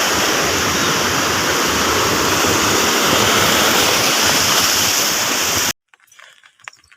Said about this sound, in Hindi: नदी का पानी भी काफ़ी बढ़ चुका है।